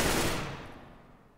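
A loud burst of video game gunfire hits at the very start, then decays steadily into a fading reverberant tail over about a second and a half, with no talking.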